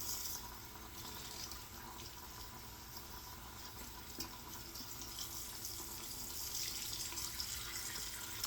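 Tap water runs steadily into a sink during rinsing, a continuous even splashing hiss that lasts throughout with no voices.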